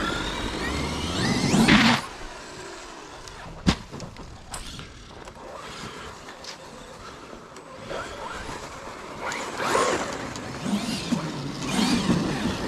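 A Traxxas XRT remote-control car drives over hard-packed snow in freezing cold, its electric motor whining up and down in bursts, with a sharp bang near the middle and surges near the start and end.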